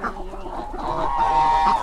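Chickens in a small home mini zoo cluck and squawk as they feed, a close, busy flock sound with overlapping calls that grows slightly louder toward the end.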